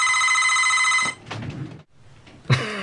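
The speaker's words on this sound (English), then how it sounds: "Can you believe that? A phone call." A telephone rings with an incoming call, a loud trilling electronic bell burst that stops, followed by a quiet pause with faint rustling, then the ring starts again.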